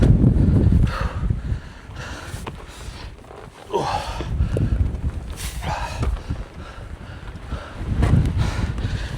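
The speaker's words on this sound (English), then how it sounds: "You can tell that wind's picked up, can't you?" Strong wind buffets a mountain summit camp on Red Screes in the Lake District, gusting loudly against the microphone in uneven surges, with rustling and footstep-like thumps.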